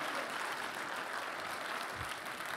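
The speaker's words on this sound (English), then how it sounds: "give the Lord a big round of applause in this place." A crowd applauds in a steady, fairly quiet patter of many hands clapping.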